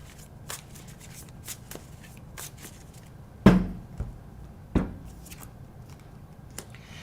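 Tarot cards are shuffled by hand at close range, a run of soft riffling flicks punctuated by two sharper slaps as the deck is squared.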